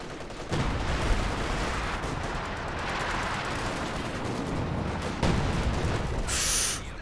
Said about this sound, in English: Phosphorus barrage doing some good work.